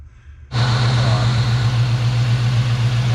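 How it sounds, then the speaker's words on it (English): A 2004 Mustang GT V8 with a BBK oil separator catch can fitted starts and settles into a loud, steady idle with a deep even hum, heard up close after a quiet moment. "Okay guys, the engine's running"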